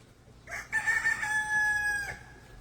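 Rooster crowing once on a small woodland farm, a clear, fairly close cock-a-doodle-doo lasting about a second and a half over a quiet outdoor background.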